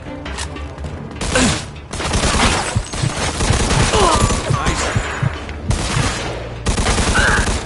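Rapid bursts of automatic gunfire and single shots in the Mafia II video game, loud and near, sustained over several seconds with short pauses between volleys.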